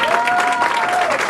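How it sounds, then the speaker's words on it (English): A crowd applauds, dense steady clapping at full volume throughout the short moment, with a thin tone held underneath. "let's give a big round of applause to our presenters"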